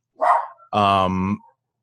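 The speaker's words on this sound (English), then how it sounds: "sorry about the dogs" A dog gives two close, loud barks in quick succession, the second longer and more drawn-out, in an otherwise quiet indoor setting.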